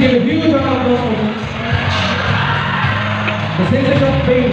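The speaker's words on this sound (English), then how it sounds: "Come on, keep clapping." A school crowd at a farewell day cheers and whoops loudly, yells and shouts blending into a continuous roar close by, with voices talking through it.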